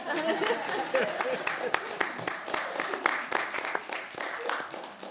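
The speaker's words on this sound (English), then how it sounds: "I felt like you deserved some sort of applause" A small group at a school district board meeting claps in distinct, fairly quick claps for several seconds, with chuckling and chatter mixed in.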